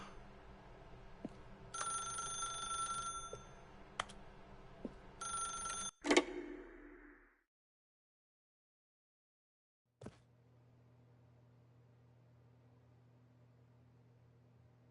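A telephone in The Stanley Parable rings in two bursts of electronic trilling, followed by a click, near silence, another click and a faint low hum.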